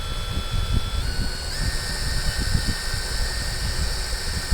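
Cordless 600Nm impact wrench spinning freely after the trigger is pressed, a steady high motor whine that steps up in pitch midway, over a low rumble and background noise; no talk.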